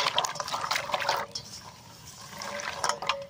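Jackfruit seeds being washed by hand in a bowl of water, with a watery splashing and sloshing, a brief lull, and then more swishing close by.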